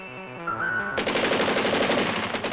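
Rapid machine-gun cannon fire from a French GIAT AMX-32 main battle tank, a loud sustained burst of fast, evenly spaced shots that begins abruptly after a brief lead-in and carries on to the end.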